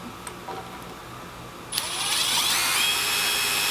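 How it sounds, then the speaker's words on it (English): A Milwaukee 12V impact driver spins up and sinks a 1-inch wood screw, a high whirring motor that starts after a quiet lead-in and holds steady, close and moderately loud. "So now if we switch to a self-tapping mode and this 1-inch wood screw, we'll see what it does here."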